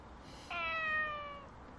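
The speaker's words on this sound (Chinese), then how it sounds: "好可爱的小猫啊！" A single kitten meows once, a clear, high, drawn-out cry lasting about a second, close and alone over faint room hush.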